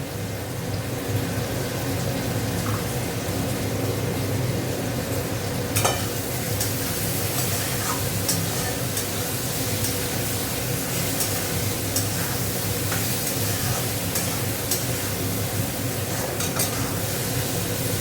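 Bitter gourd seasoned with salt and turmeric frying in a pan, a loud, constant sizzle with scraping stirring strokes and occasional light clinks, steady throughout.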